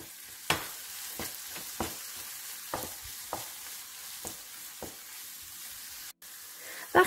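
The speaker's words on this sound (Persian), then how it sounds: "تو این مرحله اضافه میکنیم و به اندازه اون رو تفت میدیم" Garlic sautéing in a pan, a soft continuous sizzle broken by several sharp spatula scrapes and stirs at irregular intervals, close and fairly quiet, no speech.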